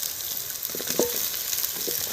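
Potatoes tipped into hot oil with onions in a pan, giving a steady close sizzle with a brief louder crackle as they land, no talking.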